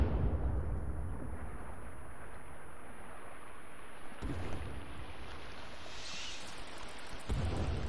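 A bomb goes off in The Forest, a deep low rumbling blast that rolls on as a long, muffled roar, with a sharper thud partway through and another near the end.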